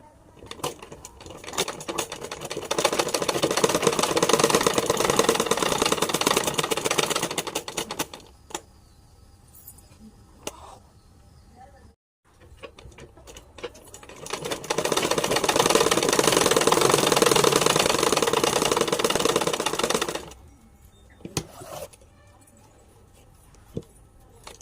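An electric sewing machine stitches the front of a silk dress for a one-year-old child in two long, steady runs of rapid needle chatter, separated by quiet pauses and handling clicks.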